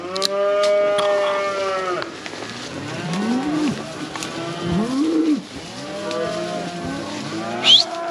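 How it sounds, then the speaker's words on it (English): Several cattle bellow in long, overlapping moos on a cattle drive through the Black Hills, some close and loud, others farther back, in a continuous chorus with no talk over it. "Get out of here, cows."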